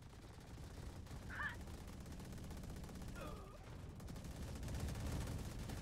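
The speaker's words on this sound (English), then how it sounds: "You're shooting a wall." Rapid gunfire in the tactical shooter Valorant: quiet, dense rattling bursts of automatic fire run throughout at a low level, with a couple of faint chirping effects mixed in.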